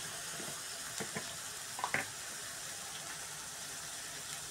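Garam masala fries in a pan with a soft, continuous sizzle, broken by a few light scrapes and taps as it is stirred, fairly quiet and without talk.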